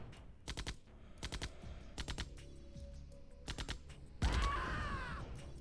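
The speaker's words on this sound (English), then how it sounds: "The Apache here from Searching is going to grind up some of the infantry." Video game Apache helicopter gunfire strafing infantry on the Quarry map, several short rapid bursts spaced apart, fairly faint against a background hum, ending in a louder rumbling burst.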